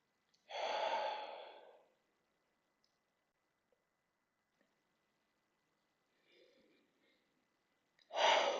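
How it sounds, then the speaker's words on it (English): Deep breaths during a yin yoga session: a long audible exhale near the start, a faint quieter breath later and another strong breath at the end, separated by near silence. "let's breathe here for 5 deep breaths"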